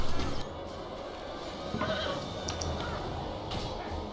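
Horses whinny over a busy battle din in the video game The Lord of the Rings: The Battle for Middle-earth, with shouts and clatter mixed in; the neighs rise briefly above the steady rumble of the fight.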